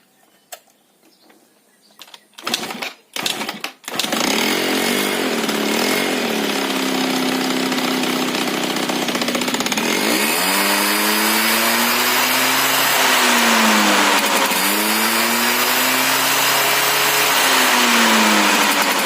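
A Puma 50cc two-stroke scooter is kicked over a few times and catches, then runs loud and close with a buzzing idle. The engine revs up and down in smooth swells several times.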